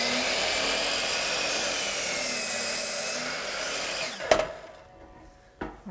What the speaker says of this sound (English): head out to the garage to cut our first wall stud